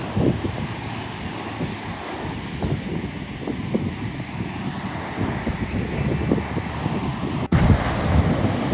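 Black Sea waves wash against the shore at Odesa in a continuous rushing roar, with gusty wind buffeting the microphone throughout.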